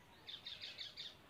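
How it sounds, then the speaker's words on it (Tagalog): Small birds chirp in a quick series of five or so bright tweets, fairly faint and evenly spaced, with no talking. "Marami po kasi kaming ibon dito"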